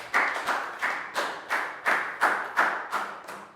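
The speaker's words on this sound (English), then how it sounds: "Big round of applause for Pak Bung." A class claps together in a steady rhythm, about ten evenly spaced claps at moderate volume in a classroom, with no talking over them.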